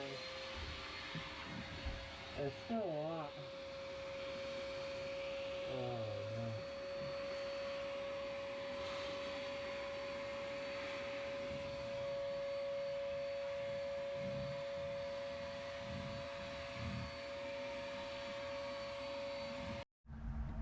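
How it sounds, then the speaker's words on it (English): Inside a yacht, a vacuum cleaner drones on continuously with a steady high whine, while a person speaks briefly over it and bumps and shifts in pitch come through before it cuts out at the very end. "The vacuum going."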